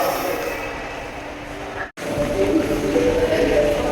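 Steady rumbling Dubai Metro train noise with broadband hiss, briefly cut off midway, then continuing with rattling and a faint high whine, like riding inside a metro carriage.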